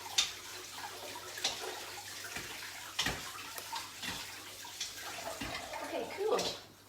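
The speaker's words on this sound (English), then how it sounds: "Rinse the rice. Get all that kind of starch off it until the water runs clear." Tap water runs quietly into a bowl while rice is rinsed in a kitchen, with soft splashing, occasional knocks and swishes over a faint steady hum.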